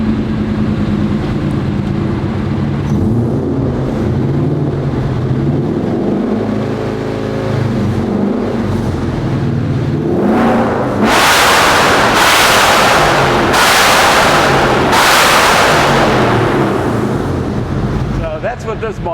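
A Superformance GT40 engine, still not fully warm, idles with a deep, loud rumble, then breaks into several sharp, aggressive revs in quick succession, close by.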